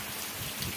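Heavy rain pours down over farm fields in a steady, dense hiss with no break, close and fairly loud throughout the brief moment.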